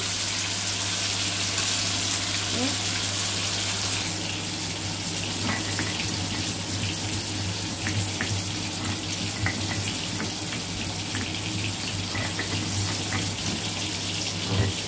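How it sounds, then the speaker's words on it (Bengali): Rohu fish frying in hot oil in a pan, a continuous dense sizzle and crackle held at an even level with scattered small pops throughout. "মাছটা ভাজা হয়ে গেছে, উল্টে নিয়েছি মাছটা।"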